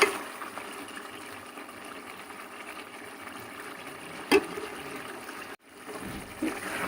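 About one to one and a half cups of water poured into a pan of well-fried chicken to start the gravy: a steady trickling splash that keeps running for several seconds with no voices, ending in a short break.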